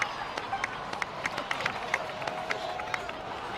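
A Genshin Impact game crowd claps and cheers continuously, with a few louder individual claps standing out in the steady applause.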